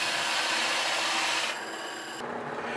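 A 2.5-inch hole saw boring into wood for a homemade wooden shield, giving a loud, continuous, close grinding rasp that eases slightly in strength partway through.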